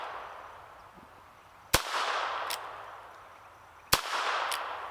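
Two single shots from a Chiappa .22LR single action revolver snap sharply outdoors about two seconds apart, each followed by a faint echo and a lingering hiss, with no talk.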